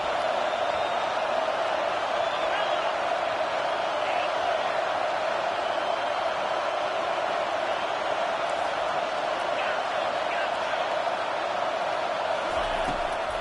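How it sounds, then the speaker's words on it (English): A home crowd in a College Football 25 game between Miami and Auburn keeps up a dense, steady roar through the whole stretch, loud and unbroken, while a commentator talks over it. "Here comes this home crowd as the defense tries to get off the field on 3rd down."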